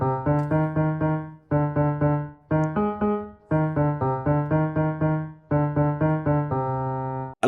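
Mary Had a Little Lamb played as a simple sustained keyboard-like melody with added dissonant intervals: a clear sequence of repeated even chordal notes in short phrases separated by brief gaps, ending on a longer held chord.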